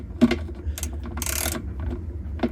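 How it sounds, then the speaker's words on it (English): A ratchet with an extension and a 10 mm socket, used on an LG washing machine drain pump, clicks in a few short bursts of pawl ticks with brief pauses between them, close and clear, and nobody speaks. "Next we take our 10 millimeter socket. And I got an extension and your ratchet here."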